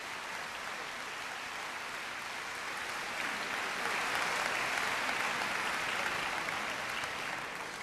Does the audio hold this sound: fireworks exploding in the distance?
no